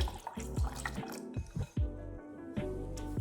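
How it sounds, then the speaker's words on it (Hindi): Water poured into a glass of jaggery, sugar and lemon sharbat packed with ice, giving a quiet, close trickle with soft dripping plops and gurgles. "और अब हम इसमें पानी डालेंगे।"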